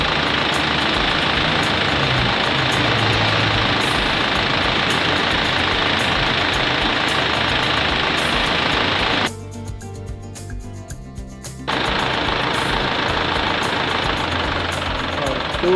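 An Isuzu Crosswind engine runs steadily at idle with the car aircon compressor engaged, a loud continuous hum that drops briefly for about two seconds before resuming at full level.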